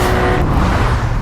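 A new Porsche 911 launching at the start of a race, a loud close engine roar with tire and road noise in a brief continuous burst.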